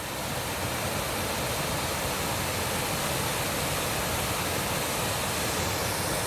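Heavy water pours down a waterfall beside the North Devon coastal path in a constant loud hiss and roar, heard up close without pause or talk.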